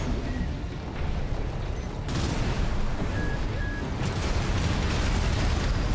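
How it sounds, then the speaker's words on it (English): Explosions in the video game Darksiders Genesis, heard as a dense, continuous roar of blasts and crashing that surges louder past the midpoint, with no break in the rumble. "Use your mobility in the air to get clear of explosions on the ground."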